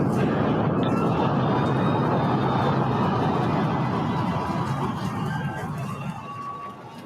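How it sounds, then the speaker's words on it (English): SpaceX Starship rocket launch heard as a dense, far-off rumbling roar with crackle, steady and powerful before slowly fading toward the end. "that was the sound of the SpaceX Starship launching"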